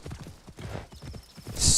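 Rhythmic hoofbeats of a horse galloping at speed in the samurai-era game Assassin's Creed Shadows, steady close clip-clop that ends in a brief loud whinny-like burst.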